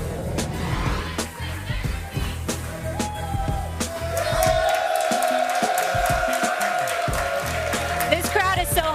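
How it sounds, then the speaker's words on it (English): A hyped crowd cheers at a live outdoor TV sports show on the road for Super Bowl 51, a steady loud roar of voices that swells midway, with a presenter talking over the noise. "This crowd is so hyped."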